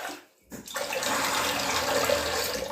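Hot water pours steadily from a kettle during a shave, a close, continuous splashing rush that starts after a brief near-silent moment and holds at an even level to the end.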